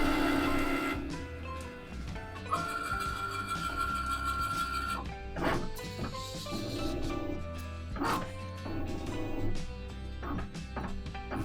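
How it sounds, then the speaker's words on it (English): Cricut cutting machine scanning and cutting a loaded mat, close whirring motor runs and rhythmic carriage movements with clicks and a sustained tone, plus a dog barking faintly in the background. "Your Cricut is now going through a process where it scans the boxes. And it's also cutting out the smaller"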